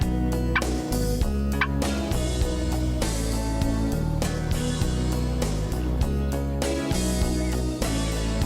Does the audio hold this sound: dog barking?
no